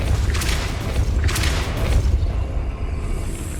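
A Depulso spell strikes in Hogwarts Legacy on PS5, giving a deep booming impact with a couple of heavy whooshing bursts over a rumbling low background, loud and close, with no voices.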